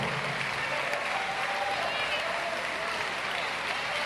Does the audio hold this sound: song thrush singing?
no